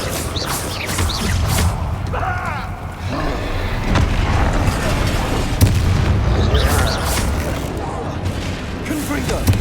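Repeated Bombarda spell blasts in the Hogwarts Legacy video game, dense booming explosions and crackling bursts over a steady loud rumble, with several sharp impacts through the stretch and voices underneath.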